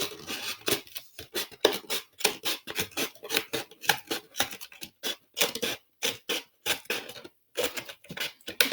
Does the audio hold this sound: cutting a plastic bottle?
yes